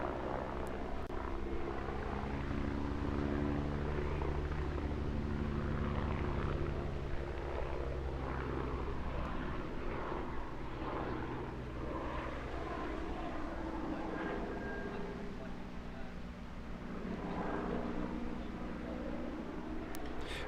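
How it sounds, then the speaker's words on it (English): A Westland Wasp navy helicopter, a frigate-based type from the 1960s, flies at a seaside airshow, its rotor and turbine drone steady and loud throughout with a layered low throb. "this particular helicopter was one of the world's first frigate-based helicopters"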